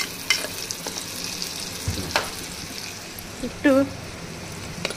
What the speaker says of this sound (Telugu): ఉల్లిగడ్డలు వేగినవి.